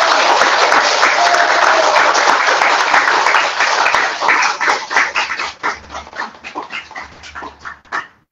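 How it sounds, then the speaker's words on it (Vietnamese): Loud, dense applause from an audience at a Buddhist temple year-end gathering after a song, sustained for about five seconds before thinning into scattered claps and fading out. "cho họ một tràng pháo tay thật lớn cho ca khúc tuyệt vời"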